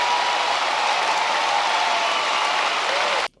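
Loud, dense applause from an audience at a stand-up comedy show, a steady wash of many hands clapping that holds level and then cuts off abruptly near the end.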